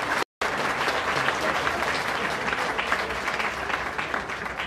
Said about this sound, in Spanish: Que ese aplauso no solamente sea para Israel, sino para cada uno de los vecinos y vecinas